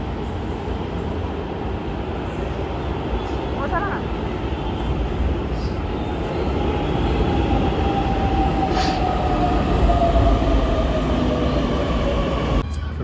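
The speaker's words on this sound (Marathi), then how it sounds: "चला, आली आमची मेट्रो." A Pune Metro train rumbles into the station with a broad, steady roar that swells as it arrives, a faint high whine running through it, and a brief voice is heard.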